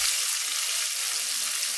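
Breaded sunfish fry in a pan with a steady, close, crackling sizzle of hot oil, bright and continuous throughout with no voices.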